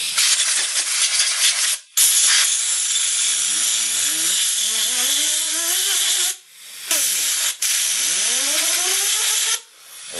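Compressed air hose blasting through a rinsed gun during cleaning, loud continuous hissing in several long bursts with brief pauses between, close up and alone.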